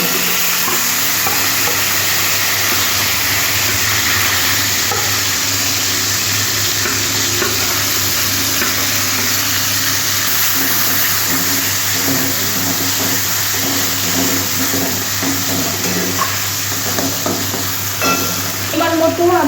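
Banana flower paste fries in a pan over a cumin tempering, giving a loud, continuous sizzle with scraping stirring strokes throughout, close and steady for nearly twenty seconds without speech.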